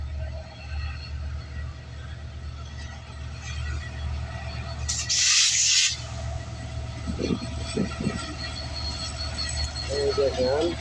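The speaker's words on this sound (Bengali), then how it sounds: "রেল আসতেছে।" A train runs along the railway line to the Jamuna Bridge near a mango orchard, giving a steady low rumble with brief louder rushes and clanks, heard from close by.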